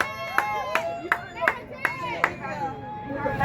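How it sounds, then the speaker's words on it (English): An audience applauding at a church service, with a scattered, uneven patter of hand claps and sharper individual claps standing out over murmuring voices and chatter in a reverberant hall. "Let's give her a round of applause, everybody."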